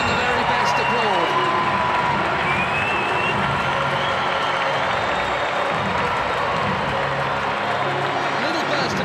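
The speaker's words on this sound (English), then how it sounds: "and even the very best applaud" Crowd at a World Cup football match between Portugal and Nigeria applauding and cheering in a steady, dense roar throughout, with commentary talk over it.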